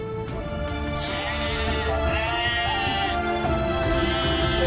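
Sheep bleat in the Louga region of Senegal, several overlapping wavering calls from a nearby flock heard continuously over a dense outdoor background, with no speech.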